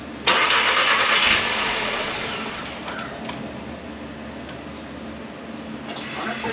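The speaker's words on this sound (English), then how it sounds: "Cranks to make sure the turbo primes." A Golf Sportwagen engine cranks after a turbo upgrade install, a loud whirring starter burst up front that fades into a steadier mechanical churn, close by, with faint clicks later.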